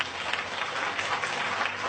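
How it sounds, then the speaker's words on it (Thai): An audience applauds to welcome an older woman guest onto a Thai health talk show, steady dense clapping running the whole way through without a break. "ปรบมือต้อนรับคุณป้าด้วยค่ะ"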